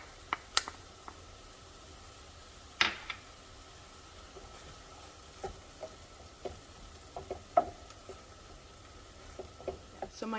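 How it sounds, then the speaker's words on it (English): Ground beef and garlic sauté and brown in a pan, a faint steady sizzle broken by scattered light clicks and scrapes of a utensil, close but quiet and without talking. "add my garlic and just continue to saute and brown everything well"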